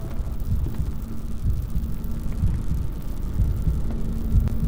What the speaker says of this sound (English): Why do I hear a heartbeat?